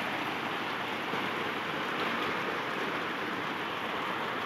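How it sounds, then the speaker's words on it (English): Steady, dense rain falling over a vegetable garden of beans and squash, a continuous even hiss with no breaks and no voices. "Rain."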